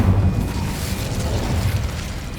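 An Incendio fire spell in Hogwarts Legacy erupts as a dense, loud whooshing boom of flame, a continuous low roar that holds for a couple of seconds close up.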